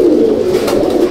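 Very small Madrasi Kalduma pigeons of an old pure line in Howrah give a loud, close, sustained throaty coo, one steady droning call filling the short moment alone.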